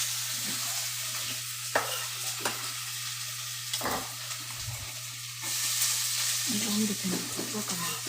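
Onions frying and being stirred in a pan for vegan jerk oxtails, a steady sizzle with a few scrapes and clinks of the utensil, close by, with a low hum underneath.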